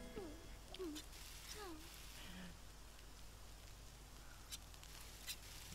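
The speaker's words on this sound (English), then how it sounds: "And it's raining. Let's play in the rain." Rain in The Sims 4 game, a soft continuous patter with scattered drops under faint chirpy game sounds and a quiet voice-like warble.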